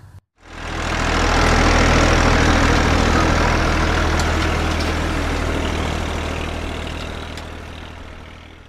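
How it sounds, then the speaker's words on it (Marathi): A tractor engine idles steadily close by, a loud, constant low rumble that starts abruptly and holds without pause. "ट्रॅक्टर"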